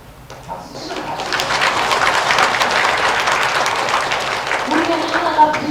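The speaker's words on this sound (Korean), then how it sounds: "박수 치고" A church congregation at a Korean worship service breaks into clapping that swells and holds steady for several seconds, with voices murmuring underneath.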